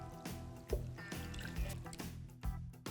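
Water is poured for homemade Neapolitan-style pizza margherita dough, a continuous close splashing and trickling with a few louder surges, and no voices over it.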